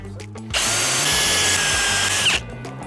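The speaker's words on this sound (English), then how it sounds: "We want to use an 8mm drill bit for the holes." A power drill with an 8mm bit boring a fixing hole, a loud close whine held steadily for about two seconds, then it stops; faint machine hum before and after.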